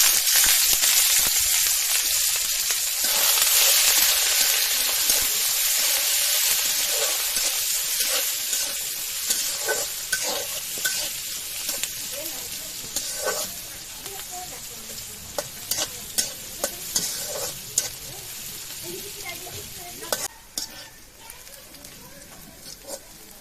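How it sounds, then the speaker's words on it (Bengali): Sizzling and crackling of onion, garlic and green chili in a hot pan, loud at first and then fading, with scraping stirs and occasional voices. "আমার পেঁয়াজ রসুন মরিচ খুব ভালো মতো ভাজা হয়ে গেছে।"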